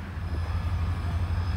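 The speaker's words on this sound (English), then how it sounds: "But on the way back, we get caught with one more train." A local freight train on the Palmetto Subdivision in Florida rolls past with a steady low rumble and droning hum, loud and close throughout a short stretch.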